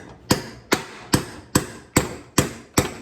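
A hammer strikes a rusty, stuck lawn mower rear wheel axle seven times in a steady, evenly spaced rhythm, each blow a sharp, close metallic knock with no talking.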